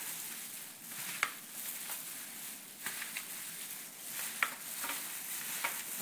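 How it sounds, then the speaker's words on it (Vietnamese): Kimchi ingredients are tossed and mixed with seasoning, giving a soft, continuous wet squelching and rustling with occasional light clicks, close and quiet, without voices. "Trộn thật đều, nó ngấm gia vị."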